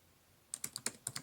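Fingers type quickly on a computer keyboard, about six crisp, close keystrokes in a fast burst after a quiet moment, with no talking.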